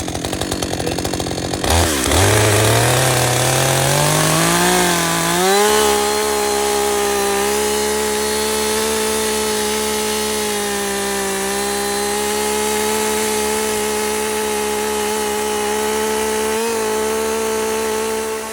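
Chainsaw revving up and then holding a steady high whine while its exhaust is pressed against dry pine needles, close and loud, with one brief dip near the end.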